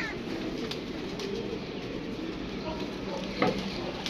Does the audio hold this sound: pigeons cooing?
yes